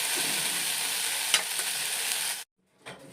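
A spoon stirs mayonnaise and ketchup together in a bowl while still-hot sandwich filling sits nearby, giving a steady close scraping and squelching. It breaks off into silence, then a short scrape returns.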